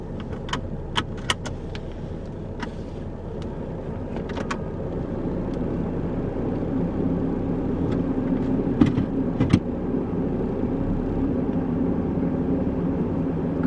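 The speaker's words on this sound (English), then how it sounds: "we're going to take the truck for a ride" A Nissan Frontier pickup truck driving after an automatic transmission fluid drain and fill: a steady, close engine and road rumble that builds slightly, with scattered light metallic jingles like keys swinging in the ignition.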